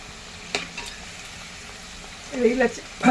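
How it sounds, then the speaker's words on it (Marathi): Vegetables fry in hot oil for Surti undhiyu, giving a soft bubbling sizzle with a few faint clicks, then a louder burst of crackling spatter near the end. "प्रत्येक भाजीला तळायला वेगवेगळा वेळ लागतोय, त्यामुळे आपण एकदम नाही तळू शकत"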